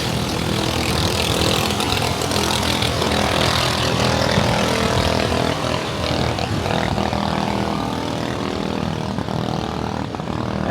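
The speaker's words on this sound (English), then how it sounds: "there is a sea breeze coming in and there's a lot of noisy boats" A loud, constant engine drone from motorboats fills the air in Surat Thani, Thailand, mixed with breezy sea wind rush, steady and unbroken throughout.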